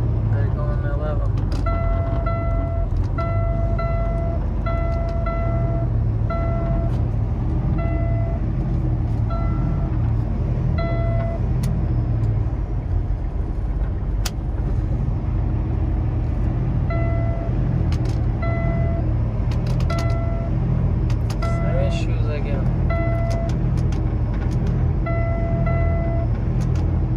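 2019 Kenworth T-680 truck cab while driving with a faulty PACCAR transmission: a continuous low engine and road rumble, with repeated electronic warning beeps in bursts and someone talking over it.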